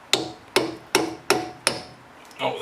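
An 11mm socket works at a rounded bolt on a Porsche Boxster 986, giving five sharp, evenly spaced metallic knocks close by, with a softer scrape right at the end.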